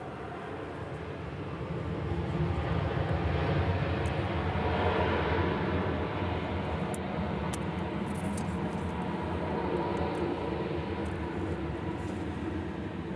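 An airliner in Canyon Blue retro livery passes at night, a broad distant jet roar that builds after a couple of seconds and holds steady.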